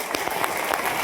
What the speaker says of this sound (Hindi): एक बार इनके लिए ताली बजाओ